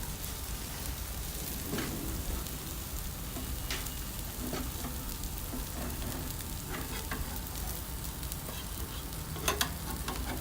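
Dosa batter frying in oil on a hot pan, a steady, faint sizzle and crackle that continues evenly with a few small pops near the end.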